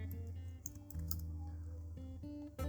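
Typing on a computer keyboard over a low steady hum of a room, with scattered soft key clicks and a sharper burst of taps right at the end.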